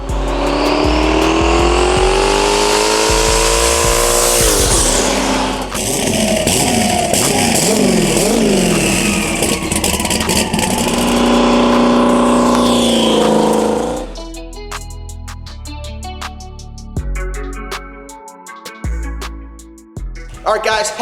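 A 1,200 horsepower turbo Trans Am with a 388 cubic inch LS on Holley EFI and a 91 millimeter turbo revs loud and close, rising and falling through long pulls, then settles into choppy, popping bursts.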